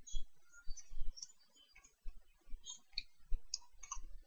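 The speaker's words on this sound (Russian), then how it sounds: "Уже как 5 дней я снимаю, собираю этот дурацкий кубик Рубик." A Rubik's cube being twisted, giving quick plastic clicks and clacks in irregular bursts, close and dry, with no voices.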